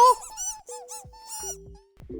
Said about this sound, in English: Everybody stop squeaking!